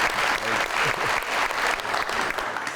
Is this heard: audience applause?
yes